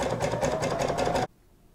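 Sewing machine running a fast, steady stitch through stretchy sequin fabric for a hoodie, set to a 1.5 stitch width and 4.0 length; loud, close and continuous, then cutting off abruptly near the end.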